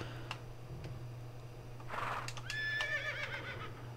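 A horse in the video game Farming Simulator 17 gives a single clear whinny, mid-loud and close, over a steady low hum with a few faint clicks before it.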